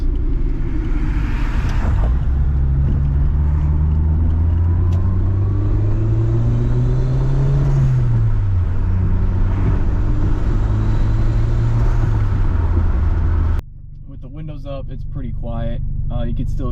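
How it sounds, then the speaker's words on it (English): Engine of a 1995 Toyota Celica GT-Four, induction and exhaust droning loudly and steadily while the pitch rises and falls with revs, then cutting to a quieter cabin near the end. "hopefully you guys can hear some of the noises, the induction, the exhaust,"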